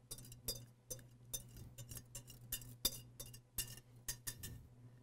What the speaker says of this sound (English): continue to blend. Stir this in real good.